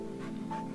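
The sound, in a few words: dog eating bread and bologna in video game Tiny Bunny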